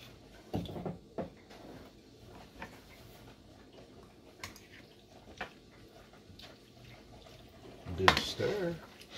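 Pork and potato being stirred in a pan, with scattered clinks and scrapes of a utensil against metal at irregular moments, most of them faint, and one louder clatter near the end. A voice speaks quietly in between.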